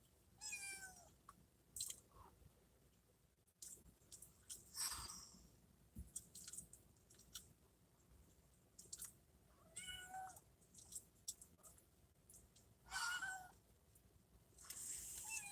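Several cats meow intermittently in a street setting, with short bursts spread across the clip, some fairly close and others fainter, over a quiet background with no talking.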